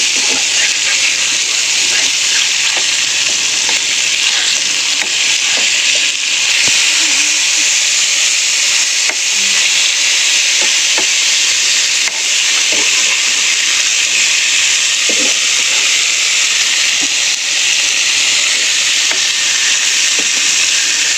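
Fish frying in a pan sizzle and hiss continuously, a loud, steady bright crackle close by, with occasional faint clinks and pops beneath it.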